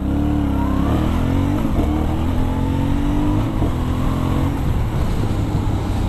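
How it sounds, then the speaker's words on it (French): An Aprilia Shiver 900 motorcycle, restricted to 47 hp, revs up loud and close with a rising engine note that climbs through the gears, punctuated by exhaust pops and crackles and heard over constant wind roar. "Il y a toujours ce pot qui pétarade derrière, c'est juste magnifique."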